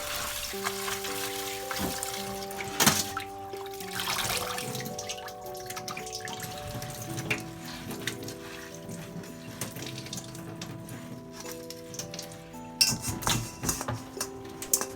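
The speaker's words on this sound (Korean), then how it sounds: "불린 미역 깨끗이 씻어 체에 받쳐주세요" Soaked seaweed being rinsed in water and set in a strainer, with continuous splashing, trickling and small clattering sounds close by, and a few sharper knocks over steady background music.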